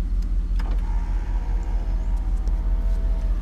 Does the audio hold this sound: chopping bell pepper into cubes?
no